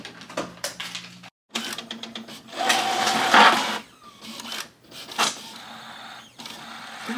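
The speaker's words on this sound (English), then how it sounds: "Sound like an old school printer." An inexpensive home printer runs through a print job, giving off a mechanical buzzing and whirring with rhythmic clicks and brief pauses, moderately loud and close with no talking over it.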